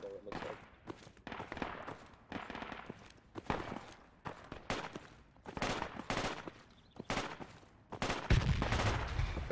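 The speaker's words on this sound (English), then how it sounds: "Is that our AR that's shooting off over here?" Assault rifle fire in Project Reality's Muttrah City battle, repeated sharp bursts and single cracks echoing at varying distances, with brief speech mixed in.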